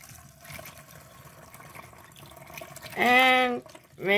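A short burst of liquid pouring through a funnel into a bottle near the end, rising in pitch as it fills, with a second brief pour after a pause.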